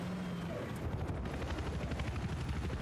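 A helicopter flies in a competitive multiplayer shooter match while infantry parachute onto a roof, its rotor thrum steady and fairly loud, with faint gunfire-like crackle mixed in.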